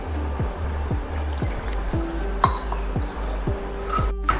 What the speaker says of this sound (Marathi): पाटा वरवंटा छान आपल्याला धुवून घ्यायचा आहे।